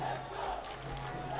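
A school rugby crowd of DS Senanayake College supporters roars steadily with shouting voices during a rugby league match, a dense, continuous wash of noise throughout.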